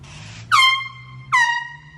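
Two loud air horn blasts from a handheld air horn hidden in an iPhone box, set off as a neighborhood prank outdoors; a short blast then a second one about a second later, over a low hum.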